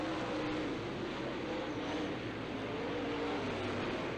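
Late model race cars battle side by side at Challenger Raceway, a steady, loud roar of engines filling the whole stretch without a break as the pack exits a turn.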